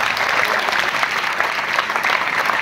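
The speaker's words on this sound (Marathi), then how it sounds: "त्यांच्यासाठी जोरदार एकदा सगळ्या टाळ्या वाजवा" An audience claps for prize-winning students at a school prize-giving, steady, full applause from many hands that stays loud and continuous throughout with only slight swells.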